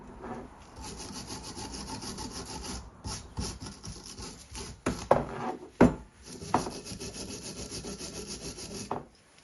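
A Honda C90 centre stand part is scrubbed by hand with a Scotch-Brite pad and WD-40, irregular rasping strokes of varying strength, some sharp and close, with a faint steady hiss underneath.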